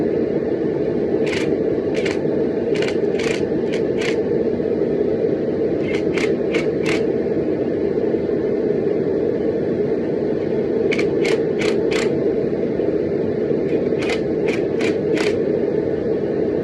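Bolts on a beadlock wheel are tightened in a star pattern with a power tool, giving short, sharp bursts in quick groups of three to five over a steady, loud background hum.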